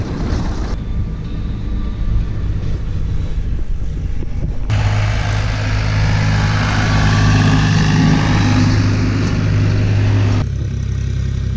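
A farm vehicle's engine rumbles loudly on a potato field, then surges heavier and deeper as it pulls away before easing back. The sound is close and continuous, with no talking.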